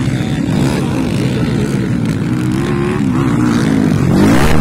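An underbone motorcycle said to perform like a 450cc revs hard, its engine note rising and falling continuously and growing louder toward the end, with no talk over it.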